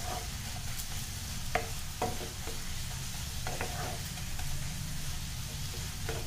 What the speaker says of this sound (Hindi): तो इसे हम थोड़ा देर और भून लेंगे।